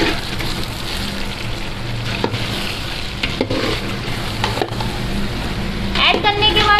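Chicken and potato coated with korma masala, red chili and biryani masala are fried and stirred in a pan, a rough continuous sizzle with scraping strokes that grows busier toward the end, with a voice faintly present.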